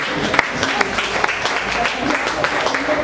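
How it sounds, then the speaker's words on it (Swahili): Congregation at a prayer service clapping for Jesus, a brisk burst of scattered hand claps with some sharper individual claps, crowd murmur and voices mixed in. "Pigia Yesu makofi"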